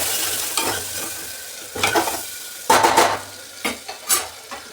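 Tomatoes hit a pan of frying onions and get stirred, a steady sizzle broken by several sharp scraping strokes of a spoon against the pan, close and clear with no talking.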